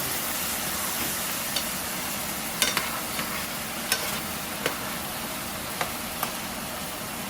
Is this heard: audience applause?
no